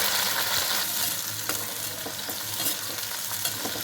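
Green chillies frying in hot oil for an old tamarind chutney, a loud continuous crackling sizzle heard close up, with occasional sharper pops and stirring.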